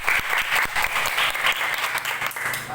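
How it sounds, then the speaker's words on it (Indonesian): Classroom applause from students, a steady patter of many hands clapping close by and filling the whole moment without talk over it. "Tepuk tangan semua."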